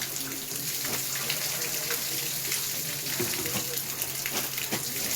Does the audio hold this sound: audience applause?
no